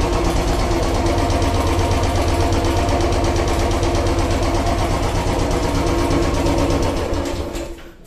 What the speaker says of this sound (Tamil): ஸோ கார்பரேட்டர் க்ளீன் பண்ண அப்புறமா பார்த்தீங்கன்னா வந்து ஸ்லோ ஸ்பீட் பக்கவா நிற்கிது.